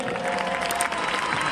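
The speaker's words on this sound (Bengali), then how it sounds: "সকলের জন্য সবাই জোরে আরেকটা হাততালি" Steady, dense applause from a crowd at a school's annual sports competition, loud and continuous without a break as spectators clap for a sports display.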